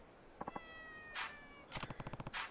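An angry cat in the game Yakuza 3 Remastered lets out short meows, a sharp hiss, then a fast string of agitated yowls and another hiss, close and fairly quiet.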